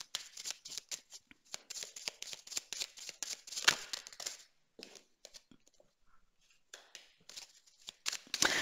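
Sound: shuffling and drawing tarot cards

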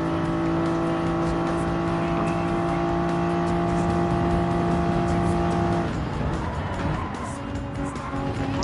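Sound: race car engine at full throttle in a racing video game

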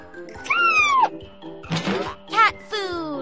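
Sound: kitten meowing in children's puzzle video game

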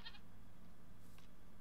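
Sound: goat bleating in the video game Minecraft

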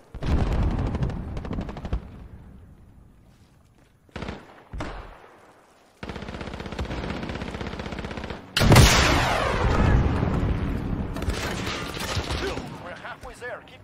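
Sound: gunfire in a video game

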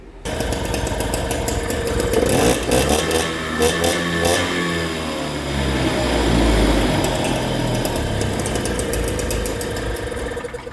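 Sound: Motobecane moped two-stroke engine started and running

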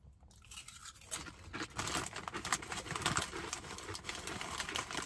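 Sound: crunching Cheez-It Snap'd cheese and chilli crisps

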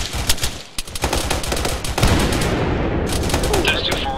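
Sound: gunfire from the southwest during a military operation

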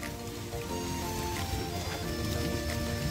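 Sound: rain falling while sheltering under a rock in jungle

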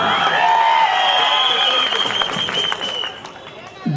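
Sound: audience applause at a public rally

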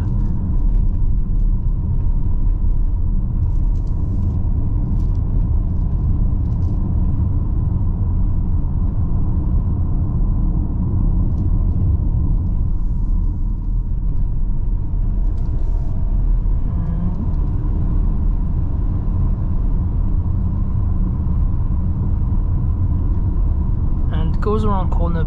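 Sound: tire road noise inside 2022 Kia Sorento 2.2D driving

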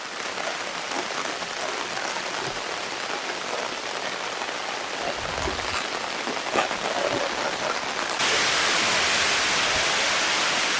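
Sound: heavy rain at a campsite

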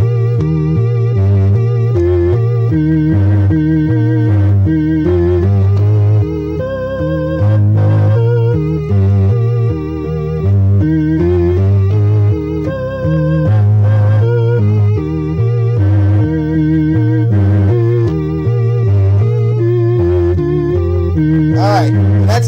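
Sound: organ playing a key change

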